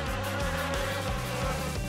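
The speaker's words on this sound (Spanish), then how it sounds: "¡Abejas! ¡No queremos su miel!" Cartoon bees buzz in a dense, continuous drone with a wavering pitch, loud and steady with no talk over it.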